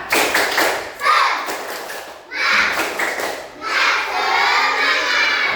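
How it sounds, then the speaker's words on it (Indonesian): A second-grade class performs the 'tepuk semangat' clapping chant, with children's voices shouting in unison over rhythmic hand claps. The sound is loud and near, in a few energetic bursts. "Tepuk semangat."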